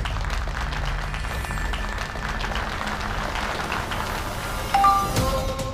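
A group of people claps during a celebration scene in a TV serial. The applause is moderate and sits under background music, with a brief chime near the end.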